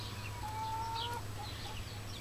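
Silver Leghorn and other laying hens in a backyard pen make a soft drawn-out cluck followed by a few faint chirps, quiet and somewhat distant over a low steady hum.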